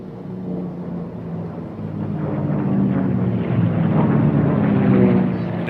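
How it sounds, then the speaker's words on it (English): Three racing aircraft at a national championship air race circle the course, their engine drone swelling steadily as they approach and rising toward a loud peak before easing slightly, with no talk. "we watch these 3 aircraft as they're coming around"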